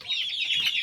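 A large show rooster of a champion breed, about five kilograms, gives a short, close clucking call alone.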